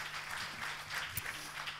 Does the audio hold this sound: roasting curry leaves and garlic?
no